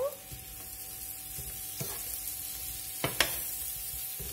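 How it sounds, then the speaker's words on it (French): Courgettes and meatballs sizzle softly in a pan, with a few light scraping knocks of a utensil stirring them; quiet, steady frying without talk. "Je vais venir touiller afin que mes légumes soient bien imprégnés."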